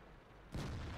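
A tank gun fires a round in World of Tanks, one sudden deep boom halfway through that cuts over a quiet rumble and then holds as a loud, sustained roar.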